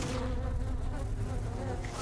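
Bees swarm in the Metal Gear Solid Delta: Snake Eater video game, a dense, continuous close buzzing drone that holds steady throughout.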